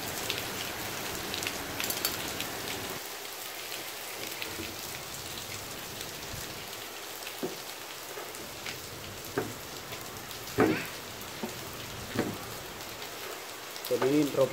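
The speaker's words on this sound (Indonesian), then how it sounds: "Kita hujan, jadi kita masuk dulu ya teman-teman ya." Steady outdoor rainfall patters on surfaces as a continuous hiss, with a few louder drips and knocks near the end and no voices.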